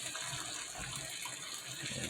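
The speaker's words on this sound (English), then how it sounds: "I just added some water to it to rinse it out. I'm just going to pour that right over top." Rinse water from a steak marinade pours over steak in a pan, a steady close splashing gush mixed with sizzling that runs unbroken with no voices.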